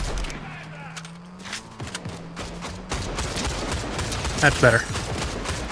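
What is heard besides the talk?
gunfire in a shooter video game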